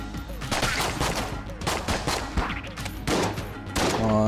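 Rapid bursts of gunfire fired as blue bullets in the roguelike shooter Enter the Gungeon crackle in quick repeated volleys, loud and close, with game effects chiming near the end.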